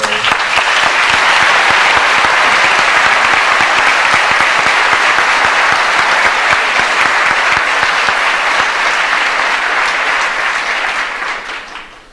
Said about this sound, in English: Let's have a big round of applause for